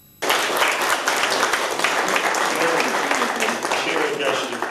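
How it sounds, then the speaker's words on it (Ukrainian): City council deputies in Kolomyia applaud medical workers, a sudden, loud burst of many people clapping in a hall that holds strong and continuous, with a voice speaking over it. "Бурхливі оплески від депутатів працівникам медичних закладів Коломищини"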